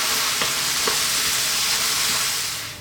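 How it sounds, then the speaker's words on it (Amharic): Vegetables frying hard in a pan over high heat, a dense, steady sizzle close up with a few brief crackles and stirring scrapes, fading slightly at the end. "እሳታችሁን ከፍ አድርጋችሁ ተጠበሳችሁ ምርጥ ይመጣላችኋል"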